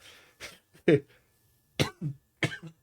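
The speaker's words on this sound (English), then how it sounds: "I'm sorry about the cough." Several sharp coughs in separate bursts, close and fairly loud, with quiet pauses between them and no talking.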